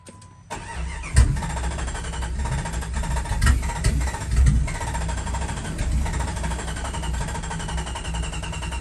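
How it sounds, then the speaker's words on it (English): An old abandoned Jeep engine turns over and runs, with a rough, loud mechanical chugging close by and a few heavy thumps near the start, settling into a steady, uneven rumble. "In this episode, we get this old Jeep running"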